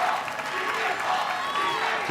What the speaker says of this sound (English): Crowd chanting, beat the ball.